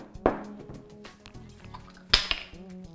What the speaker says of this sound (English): Going to pour the water on your hand now.